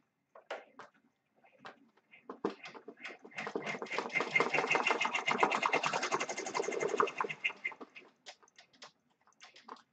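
A computerized embroidery machine stitches lettering in bursts of rapid mechanical chatter, with a longer steady run in the middle and short clicks and pauses between letters, close and moderately loud with no talk.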